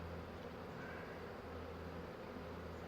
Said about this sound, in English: There's a ton of bees in here. As soon as I stop smoking, they just flow out of here.